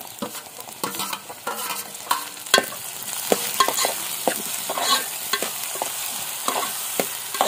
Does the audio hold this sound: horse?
no